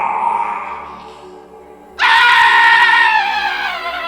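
A loud, sustained scream bursts in suddenly after a quieter wailing lead-in, close and piercing, holding to the end in a horror movie setting.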